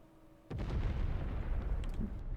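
An airstrike blast in a competitive multiplayer shooter lands with a sudden heavy boom, then a rumbling roll of debris and impact noise that carries on for about two seconds.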